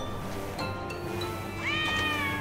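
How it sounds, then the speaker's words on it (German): A cat meows a few times in the video game Lego Batman 3, soft then a longer rising mew, set over game background ambience. "Ah, eine Katze."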